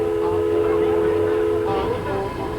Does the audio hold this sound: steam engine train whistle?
yes